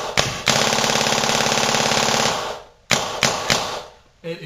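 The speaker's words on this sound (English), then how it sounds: "All you gotta do is just rip drive and then keep firing." A Shocker paintball marker fires a rapid, buzzing burst of shots for about two seconds, loud and close, followed by a few separate single shots.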